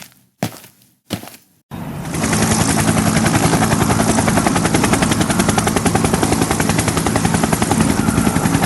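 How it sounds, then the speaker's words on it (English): A helicopter rotor starts with a few separated thumps and then settles into a loud, steady, rapid chopping drone that holds to the end, with no voices. "Why is there a helicopter here for?"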